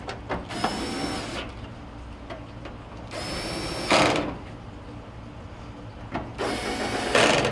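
A power tool drives bolts back into the mounting holes of a Whirlpool dryer cabinet in three whirring bursts, each about a second long, with quiet pauses between them.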